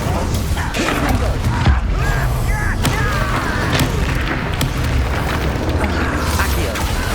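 Spell blasts from a Confringo explosive curse in the Hogwarts Legacy video game, booming repeatedly in a dense, loud stream of magical combat effects alongside other spell sounds, with no pauses throughout.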